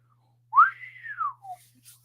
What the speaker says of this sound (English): That's about as good as I can whistle.